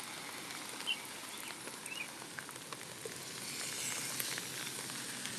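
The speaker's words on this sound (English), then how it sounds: "Still raining relatively hard." Steady heavy rain hissing and pattering on street surfaces during a storm, a dense continuous wash with no voices.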